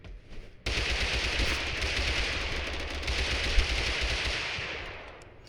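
Sustained rapid gunfire in Totally Accurate Battlegrounds, loud and dense automatic bursts starting abruptly after a brief quiet lead-in and continuing steadily with one sharper crack near the end.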